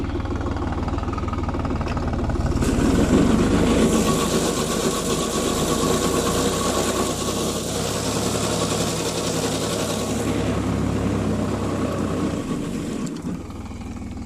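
A New Holland T580B tractor runs its engine steadily while spreading manure on a rose field. It is a loud, continuous, close drone with a slight swell in intensity partway through and no speech over it.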